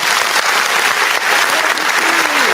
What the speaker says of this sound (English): you ladies most definitely deserve a round of applause